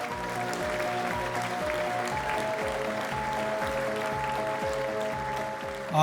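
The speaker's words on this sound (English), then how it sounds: "Let's give a round of applause to Vigalia's co-owners, Corina Jimenez and Natalia Sarur as they join us on stage." Audience applause at a South Florida small-business success celebration, a steady sustained clapping over a continuous musical backing with tonal notes, lasting several seconds without a break.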